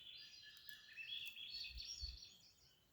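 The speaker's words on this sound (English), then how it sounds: "Listen to these birds." Birdsong outdoors, a steady layer of high chirps and trills carrying at moderate level through the whole stretch, with faint low thumps beneath and no talking.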